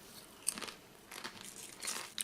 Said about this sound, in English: I do love Kettle chips because they got such a crunch on them